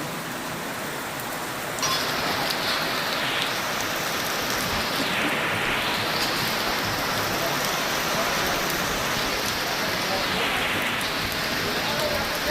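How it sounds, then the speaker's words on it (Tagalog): Steady heavy rain pours down continuously, a dense hiss of drops on surfaces that grows fuller after the first couple of seconds. "sinabot naman kami ng ulan dito sa kabundukan"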